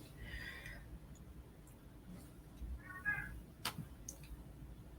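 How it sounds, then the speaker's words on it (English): Two short cat meows, faint and a little distant, separated by a quiet pause, over low background rumble, with a brief click near the end. "that's my cat meowing"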